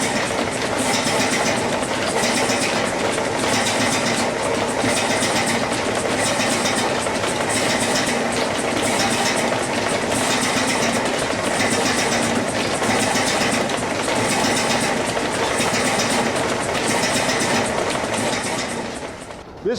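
A steam engine powers a woodworking shop, a continuous loud chugging and mechanical clatter with a steady rhythmic pulse running for about twenty seconds before easing at the end.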